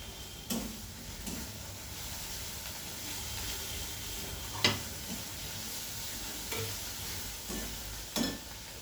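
Red and green chillies frying in a pan of oil for a spicy rithe fish curry, a soft continuous sizzle with a few sharp clicks of a spatula against the pan, close and steady.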